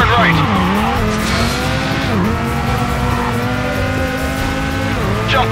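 A car's tires squeal through a right-hand drift turn in the stunt-driving game Stuntman: Ignition, with sliding pitch sweeps over a steady, loud engine drone, and another squeal rises near the end.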